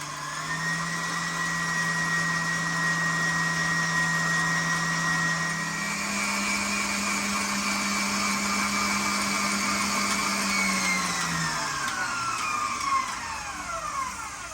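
An electric mixer whips heavy cream toward stiff peaks, giving a loud, steady motor whine that holds at one pitch, steps slightly higher partway through, then winds down near the end. No one speaks.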